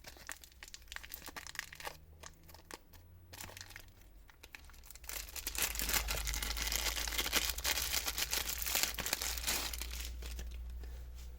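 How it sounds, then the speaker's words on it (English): Crinkling and tearing of a trauma kit's plastic package as it is ripped open at its marked tear points, close and fairly loud, building into a sustained rustle in the second half. "So you pull that and it comes open."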